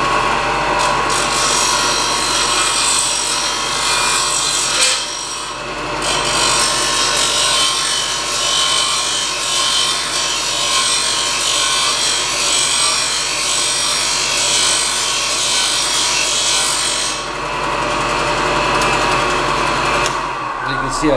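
A wooden pole being tapered to a spear tip with a tool, giving a steady, loud rasping and grinding that runs almost the whole time, with short dips before it resumes.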